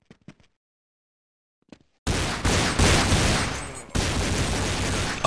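Gunfire in Counter-Strike on de_dust2 during a DreamHack match: a few faint clicks, then a sudden loud, dense stretch of rapid shots and booms with one brief break.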